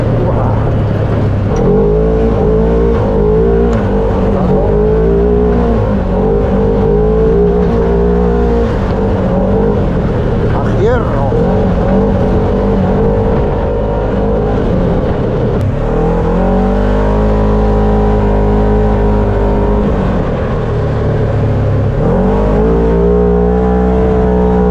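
A Segway Powersports UTV engine runs loud and steady throughout, its pitch rising and falling in repeated revs, with a voice talking over it for much of the time.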